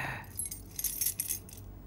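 Keys jangle close by in a Vietnamese drama scene, a run of bright metallic clinks and rattles that clusters in the middle and fades toward the end, with no talking over it.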